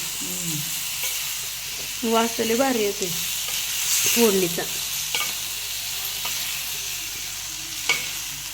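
Spices, onion and tomato sizzle and crackle steadily in hot oil as they are stirred for a mung bean curry, with a voice speaking briefly over the frying.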